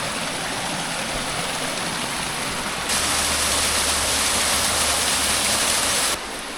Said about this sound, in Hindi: बढ़िया अपना झरना चल रहा है इधर।